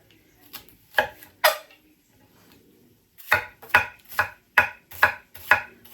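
A kitchen knife chops an onion on a board: two sharp knocks, a pause, then a quick regular run of about seven crisp, close chops.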